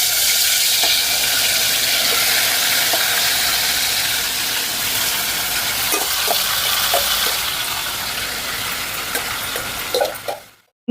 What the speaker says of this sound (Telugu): ముందు ఆయిల్ వేడైన తర్వాత మనం మ్యారినేట్ చేసుకున్న చికెన్ని ఇప్పుడు వేసుకుంటున్నాం